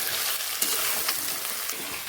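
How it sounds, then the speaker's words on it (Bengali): Country chicken and large potato pieces are being sautéed together in a pan, giving a loud, dense, continuous sizzle with stirring scrapes and no talking. "কষানোর সাথে আলুটাকে আমি কষাবো"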